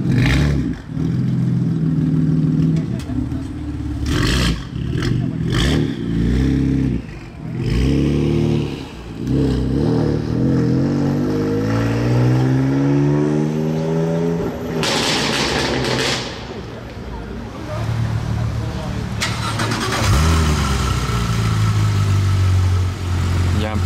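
Loud engines of a Lamborghini Huracan and a Porsche GT3 RS rev and roar in repeated bursts, pitch sweeping up and down, with the second car's revving joining later; close and powerful throughout.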